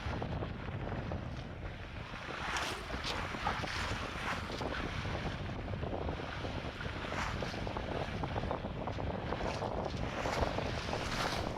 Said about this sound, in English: the wind is directly at our backs and it's very, very soft, almost kind of intermittent